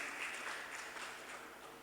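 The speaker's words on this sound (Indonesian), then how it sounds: "Mari berikan tepuk tangan buat Tuhan." Congregation applause during a worship service at a church, a steady, dense wash of clapping hands that stays fairly even and somewhat distant for a couple of seconds.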